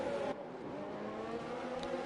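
F1 race car engines in F1 2020 at the Austria circuit whine steadily at high revs, a continuous buzzing drone of cars racing together at moderate loudness.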